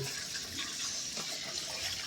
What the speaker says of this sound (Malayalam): ഈ കുക്കറിൽ ഇടാം കുക്കറിലിട്ടിട്ട് വെള്ളം ഒഴിച്ച്